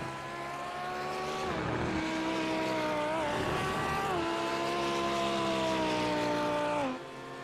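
A race car engine in a sim racing game at Road Atlanta screams steadily and loudly, its pitch rising and dipping through shifts and braking into the 10A/10B corners, with no talk over it.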